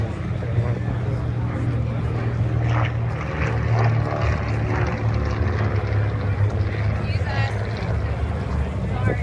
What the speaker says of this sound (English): Here is the P-51D Mustang.